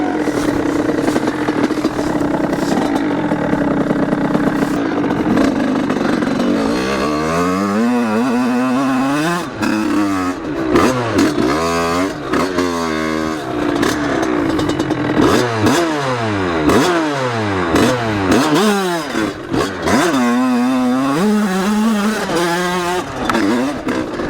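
An enduro motorcycle revs hard as it climbs a steep trail, the engine loud and close, rising and falling in repeated surges of acceleration with no talk over it.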